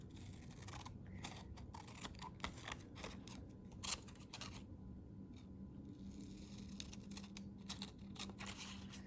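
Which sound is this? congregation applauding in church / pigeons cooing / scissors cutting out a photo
scissors cutting out a photo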